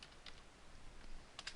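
A computer keyboard being tapped, with a few faint, isolated key clicks such as tab or space bar presses spaced out over a quiet background.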